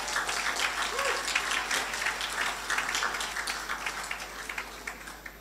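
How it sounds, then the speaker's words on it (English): A crowd applauds at the Dominica Grammar School Class of 2023 graduation ceremony, sustained dense clapping that holds steady throughout, full and moderately loud, with a low hum underneath. "Give them a big round of applause."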